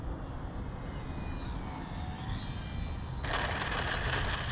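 A nitro-powered RC trainer airplane engine drones steadily at a distance under wind noise, its whine shifting in pitch as the throttle is eased back, with a louder rush near the end.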